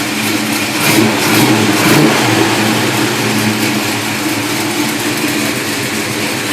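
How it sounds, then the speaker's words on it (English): A hot rod car's 440 engine with a newly fitted exhaust revs up and holds a rumbling, throaty drone, swelling louder around the first two seconds before settling into a steady roar. "Rev it up a little bit."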